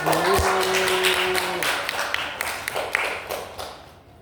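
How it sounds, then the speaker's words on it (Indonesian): Classroom applause during a micro-teaching poetry lesson, a scattering of claps from students that thins into uneven individual taps, with a brief sustained tone and a thump near the start. "Tepuk tangan untuk semua."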